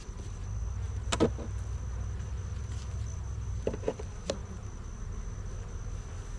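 Honey bees around an open hive during an October inspection on a cool morning, a faint steady buzz with a few closer bees flying past the microphone.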